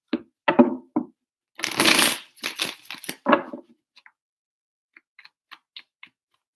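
Tarot cards being shuffled by hand in a few quick, close riffling bursts, followed by a scatter of faint light taps and clicks as the deck settles.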